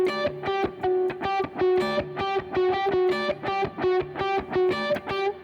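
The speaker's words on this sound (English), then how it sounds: "I'm using palm muting in my right hand and string muting in my left hand" Electric guitar played with palm muting and left-hand string muting, giving tight, muffled chugging notes in a quick steady rhythm through a distorted, effected tone, close and alone.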